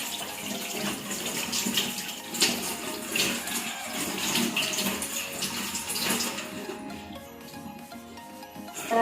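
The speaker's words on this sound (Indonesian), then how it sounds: "Dan bilas sampai bersih." Running water splashes continuously and fairly close, like rinsing from a tap or basin during a patient's wash, with steady flow throughout and no talking.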